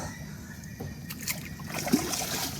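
A kayak paddle dipping through calm water among mangroves in Saligrama, soft near sloshes and trickles with a small splash near the end, fairly quiet and without talk.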